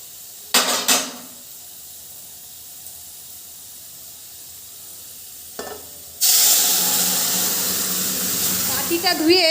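Masoor dal poured into a pan of fried onions sets off a sudden loud, steady sizzle partway through, following a few brief clanks and knocks and a stretch of quiet.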